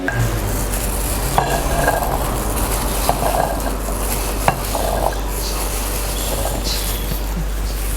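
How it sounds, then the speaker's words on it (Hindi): Chickpeas tossed with spices in a pan give a loud close sizzle under repeated stirring scrapes, with a few sharp clicks of a spoon against the metal, no voices. "मसाले को हमने चने को ऊपर अच्छी तरह कोट कर दिया है।"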